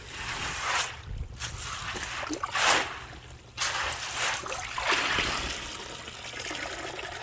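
Water draining and trickling from filter media bags during koi pond filtration maintenance, a continuous close splashing rush with several louder surges, no speech.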